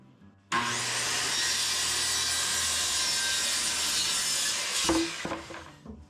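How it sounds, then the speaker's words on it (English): Makita saw cutting the end off a clamped piece of wood, one continuous loud, close rasping cut of several seconds ending with a few knocks as the piece comes free. "I'm going to get the Makita out now and cut the end off of this"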